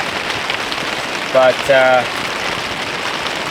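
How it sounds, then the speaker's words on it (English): Heavy rain falls on a hot tent in a cold forest, a dense steady patter close overhead, with a brief spoken word breaking through partway. "Yeah, it's raining quite a bit."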